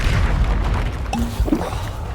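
In the Hogwarts Legacy video game, a Confringo fire spell explodes: a booming blast followed by a short, bright whoosh and scattered bursts.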